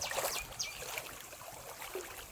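Water running in a stream through farm fields, a soft steady trickling flow close by with light splashy texture and no voices.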